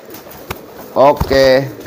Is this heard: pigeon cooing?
yes